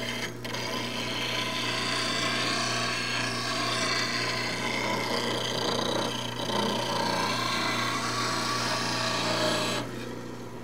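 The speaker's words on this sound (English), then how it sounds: "just letting it grind off nice and smooth, walking it all the way around." A high-speed steel spindle gouge for a wood lathe is sharpened on a grinder, making a steady close rasping grind over a constant motor hum that lasts about ten seconds before easing off.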